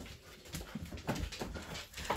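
Dog whimpering in a backyard where three dogs roam, soft intermittent whines rising and falling over about two seconds at moderate distance, with no talk.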